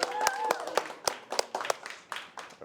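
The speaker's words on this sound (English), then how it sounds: "Please clap." A small audience claps at a wrestling awards show, a short burst of scattered, uneven hand claps mixed with faint background voices.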